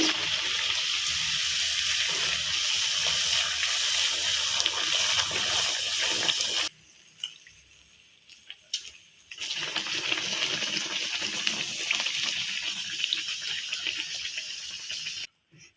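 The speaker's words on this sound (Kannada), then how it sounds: "ಈಗ ಇನ್ನೊಂದು ಬಿಡ್ತಾ ಇದ್ದೀನಿ ನೋಡಿ ವಡಿ." Jowar (sorghum) vada frying in hot oil, a North Karnataka snack, gives a loud, steady sizzling hiss that cuts out briefly in the middle before resuming and then stopping abruptly.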